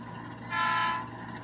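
A DCC-controlled model train locomotive with onboard sound gives a brief horn or whistle blast, a steady tone swelling for about half a second over a low running hum, close and moderately loud with no talking.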